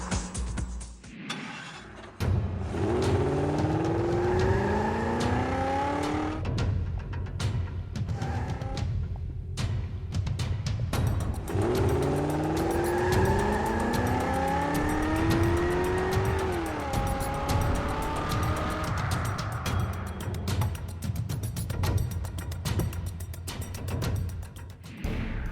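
Race cars roar around a track in the Speed Stars finale, engines droning loudly and steadily with repeated rising revs and shifting pitch as cars push through gears, plus occasional tire noise, with no voices.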